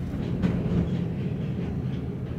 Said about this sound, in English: Oh, there's another car train, folks.